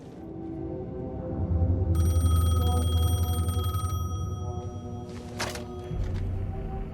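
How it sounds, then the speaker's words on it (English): A payphone in a video game rings with a steady electronic trill for about two seconds, then a second shorter ring follows, over a low rumbling ambient drone. "The payphone was ringing."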